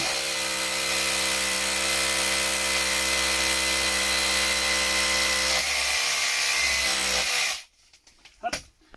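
A power drill bores into a concrete block wall with a loud, continuous grinding whine that fills about seven seconds before it stops abruptly, followed by a few light taps.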